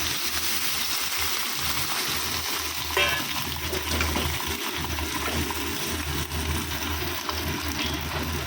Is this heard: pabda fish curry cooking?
yes